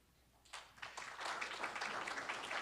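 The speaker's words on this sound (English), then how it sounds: "Keep clapping." An audience at a city's State of the City event breaks into applause that swells from a few claps into steady, fairly faint clapping by many hands.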